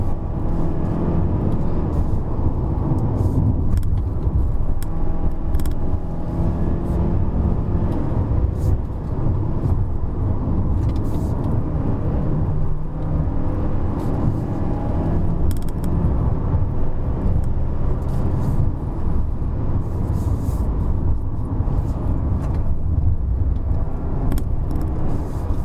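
A 2019 Mazda CX-5 with the 2.5L turbo engine and AWD climbs the Genting hill road, its engine a steady low drone as the gearbox upshifts, with someone speaking over it.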